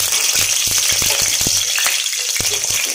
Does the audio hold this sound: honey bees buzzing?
no